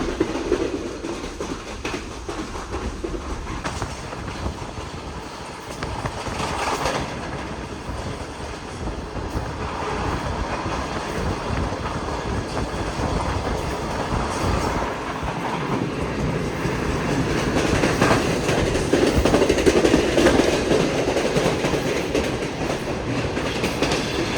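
The Shah Hussain Express, a passenger train from Karachi, runs through Sikandarabad station without stopping. A steady, loud rumble of rolling wheels and rattling carriages continues throughout and swells toward the end.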